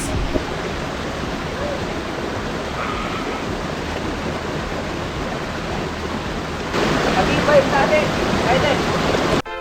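Atake Falls in Atok, Benguet roars as a continuous broadband rush of falling water, loud and steady, close at the base among large rocks.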